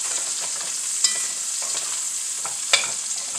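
Onions frying in a pan while being stirred, a bright continuous sizzle close up, broken by a couple of sharp utensil clinks against the pan, with no speech.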